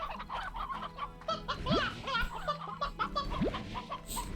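Chickens in the video game Slime Rancher cluck and chatter continuously at moderate volume, with a couple of rising squawks over a steady low background hum.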